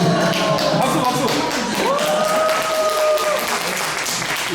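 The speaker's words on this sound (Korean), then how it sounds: "박수 박수" Audience applause in a church during a teachers' training session, a dense burst of close clapping that rolls on steadily, with people talking and a sustained tone running through it.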